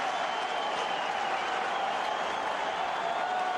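A sellout crowd of about 42,794 at Great American Ballpark in Cincinnati roars and applauds during a Mets–Reds baseball game in April 2005, a dense, sustained wash of cheering and clapping that stays loud and even throughout.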